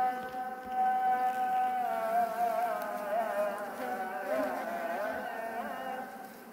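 Honey bees swarming around an opened hive, a dense, loud, close buzz whose pitch wavers as individual bees pass near, sustained throughout with no talking.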